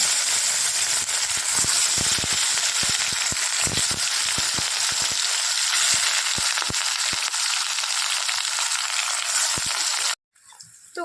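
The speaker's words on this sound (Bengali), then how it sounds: "কালো জিরা ফোড়ন দিয়ে এখানে লঙ্কা দিয়ে, গোটা লঙ্কা দিয়ে একটু আলুটা ভেজে নিলাম লাল লাল করে" Potatoes frying in hot oil with black cumin and whole chillies, a steady close sizzle and hiss with scattered sharp pops and spatters, ending abruptly.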